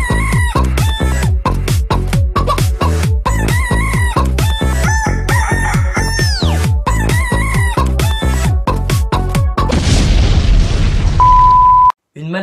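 Roosters crow and chickens cluck in a dense, rapid run of loud calls lasting about ten seconds, then a rush of harsh noise and a short steady tone.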